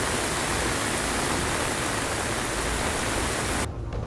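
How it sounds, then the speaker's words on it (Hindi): Floodwater rushing through a residential area during heavy rain makes a loud, dense, continuous roar of water that drops off abruptly near the end, with no talk. "जमीन पर बहता पानी और आसमान से बरसता पानी"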